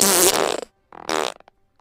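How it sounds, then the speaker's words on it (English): Two bursts of flatulent, fart-like sounds stand in for speech, the first long and sputtering, then a short pause before a second rippling burst and a few faint trailing pops. "He's from an Earth where they speak in farts."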